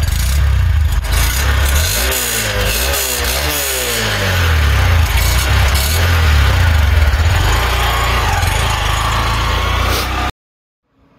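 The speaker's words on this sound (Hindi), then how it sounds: "सुनते हैं इसकी एग्जॉस्ट कैसा है" A 2022 Honda Shine SP 125 drum-brake motorcycle idles and revs through its exhaust, a steady close engine drone with a few throttle blips early on, ending abruptly.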